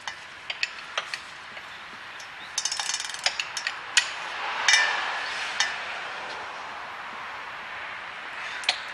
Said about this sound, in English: I'm going to now tighten the prop shaft first.